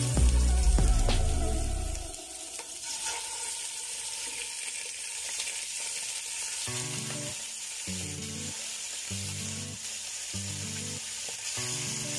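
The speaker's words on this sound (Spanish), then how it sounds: "Vamos a empezar a sellar el pollo." Chicken sears in hot oil in a pan for a potato chicken stew, opening with a loud burst as the pieces hit the oil, then settling into a steady close sizzle with rhythmic scraping of a utensil.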